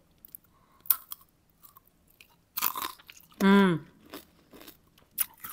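Someone bites into crunchy homegrown grapes, giving a short crisp crunch followed by soft chewing, and a voice makes a brief exclamation partway through.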